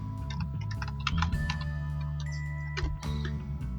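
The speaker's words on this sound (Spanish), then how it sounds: "aquí voy a digitar mi usuario y contraseña" Keys clack on a computer keyboard as a username and password are typed, a quiet irregular run of taps over a steady low hum.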